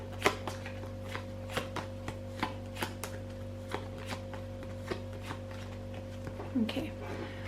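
Tarot cards shuffled by hand during a reading, a steady run of soft, crisp card flicks and taps close by, with low background hum and no talking.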